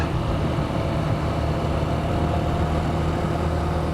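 A Honda CB125F motorcycle engine running under load, a steady close low drone with a constant even pitch and no talking.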